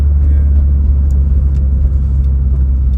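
A car engine, recently repaired after a head gasket job and misfire, idles steadily with a low, even rumble, close and fairly loud, without any revving.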